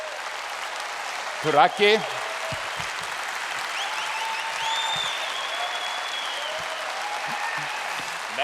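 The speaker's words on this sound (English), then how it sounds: "So please give a huge applause" A convention crowd at a gaming fan festival applauds as a man is called on stage, a broad steady roar of clapping after a short spoken phrase, continuing evenly to the end.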